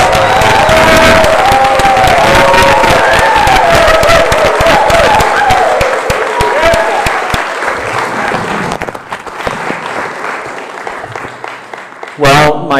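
Audience applause and cheering for Inelia Benz, a loud crowd clapping with whoops and voices over it, fading toward the end before a last short burst.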